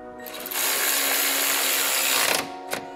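A power tool driving bolts to secure the carbon air intake pipe on a crash-damaged BMW M3 Competition, a loud close whine that spins up, holds steady for about two seconds, then cuts off with a short final burst.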